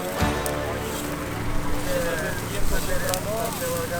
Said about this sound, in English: We are not used to flames bigger than a campfire. This is actually intense.